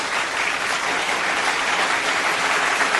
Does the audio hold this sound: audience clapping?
yes